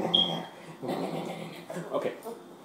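A dog growls and whimpers close by in short, uneven bursts, with a person's voice mixed in among the sounds.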